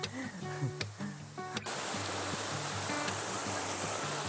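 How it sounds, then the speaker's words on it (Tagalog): A river in Burgos, La Union, gives a steady rushing wash of flowing water, which becomes louder and broad after a few seconds; people talk over it early on. "ito yung ilog na nakita natin"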